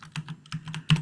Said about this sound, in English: we're going to do that by typing the following command